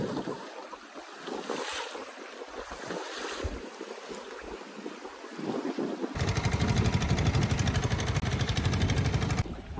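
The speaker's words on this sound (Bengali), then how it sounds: "প্রচুর হাওয়া আর প্রচুর ঢেউ হচ্ছে" Strong wind buffets the microphone over rolling river waves heard from a small fishing boat, and the roar of water swells louder and rougher toward the end.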